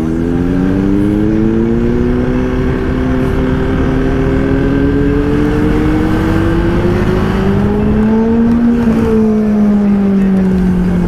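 A Ducati Panigale V4 superbike engine holds a loud, continuous rising and falling rev with strong harmonic tones for about eleven seconds, climbing to a peak near the end before easing off.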